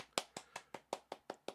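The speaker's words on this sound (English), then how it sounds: "Okay, this is just a clap." Eight sharp hand claps in an even, steady rhythm, each crisp and close with a short decay, against a quiet background.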